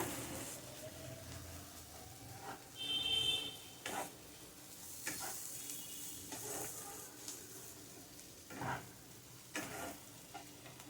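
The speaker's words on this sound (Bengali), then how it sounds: "ভালো করে মিশিয়ে নেব গরম মশলাটা" Garam masala powder is stirred into a frying mixture for a paneer and potato dish made without poppy seeds, with a faint, low sizzle broken by occasional soft scraping strokes of the spoon.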